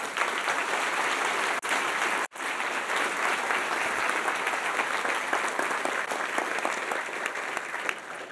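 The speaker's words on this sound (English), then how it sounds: "Pablo, please stand, take a round of applause" A large university audience gives a sustained round of applause for Professor Pablo de Leon, a continuous dense roar of clapping that holds steady from start to finish.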